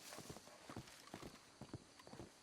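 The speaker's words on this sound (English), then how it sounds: "I thought that was my horse." Horse hooves clip-clop in a steady walking rhythm in a Red Dead-style roleplay video game, close and fairly loud over a constant background bed, with no one talking.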